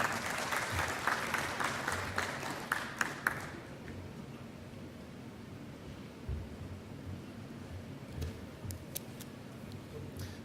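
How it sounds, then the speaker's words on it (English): A crowd applauds loudly for a few seconds after a conference presentation, the clapping dense and steady, then fades into a quiet room hum with a few faint scattered claps. "please give a warm round of applause"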